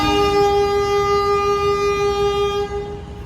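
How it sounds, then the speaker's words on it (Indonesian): The Gaya Baru Malam Selatan train sounds a long, loud, steady horn as it departs Wonokromo station, the blast holding for nearly three seconds before cutting off into rumbling rail noise. "Kereta api Gaya Baru Malam Selatan berangkat dari stasiun Wonokromo sekitar pukul 12:13"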